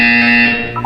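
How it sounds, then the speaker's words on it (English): A loud, steady electronic buzzer tone from the video game Portal sounds in one sustained blast and fades slightly at the end. "When you hear the buzzer, look down at the floor."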